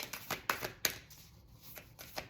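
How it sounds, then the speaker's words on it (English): A deck of tarot cards being shuffled by hand, with soft, quiet riffles and taps in an uneven rhythm against a faint room hiss. "Hey, I'm shuffling because I guess I needed to shuffle."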